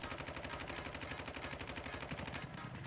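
Rapid automatic gunfire from a low-recoil weapon in the video game Warzone rattles out in a steady, fast stream of close, loud shots, tailing off at the very end.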